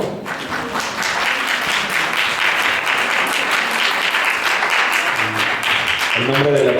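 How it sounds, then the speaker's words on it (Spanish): An audience at a talk on parapsychology and consciousness breaks into loud, sustained applause that fills the room, with a few voices and a brief spoken murmur near the end. "Un aplauso para él, por favor."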